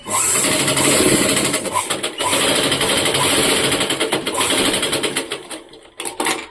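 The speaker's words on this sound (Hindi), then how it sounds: "इस तरह से यहाँ पर सिलाई डाल दूंगी, पूरा बड़े टांके पर सिलाई डाल दूंगी" A sewing machine runs loud and close, sewing long stitches into the main fabric of a short top. The steady rattling whir continues almost without a break before it stops and restarts at the end.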